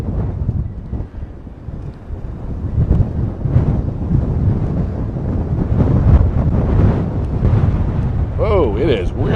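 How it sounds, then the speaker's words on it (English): Strong wind roars and buffets the microphone in a loud continuous rumble outdoors, with gusts swelling and faint voices beneath. "Whoa, it is really windy."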